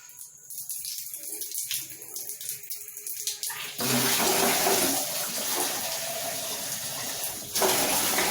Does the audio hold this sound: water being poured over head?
yes